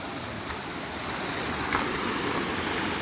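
Steady broadband rush of flowing river water near a series of waterfalls, continuous and fairly close, with no voices over it.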